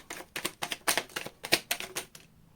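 A rapid series of crisp riffles and snaps from a tarot card deck being shuffled, about a dozen sharp bursts in quick irregular rhythm, close up, ending abruptly.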